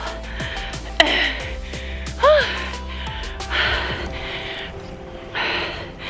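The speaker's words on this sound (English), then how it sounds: "me panting like a dog and sweating my butt off" A cyclist pants hard while riding rough gravel in heat around 35 degrees, with several close, breathy gasps and exhales at irregular intervals over background road and wind noise.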